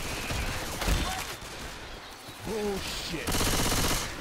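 Automatic gunfire in Left 4 Dead 2 rattles in bursts with a brief lull in the middle, mixed with shouted voices, loud and close.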